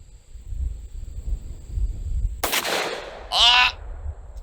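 A single loud, sharp gunshot is fired at targets outdoors in Kentucky, followed shortly by a brief shout, over low rumbling background noise.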